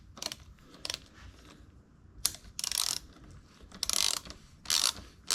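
Ratchet wrench working a 10 mm bolt on a bicycle fork, close clicking pawl bursts in short irregular runs, some brief and some longer, separated by quiet pauses.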